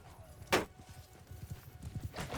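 Cavalry horse hooves clip-clop in Mount & Blade II: Bannerlord battle audio, a steady run of muted thuds under two sharp louder hits, with faint background bustle.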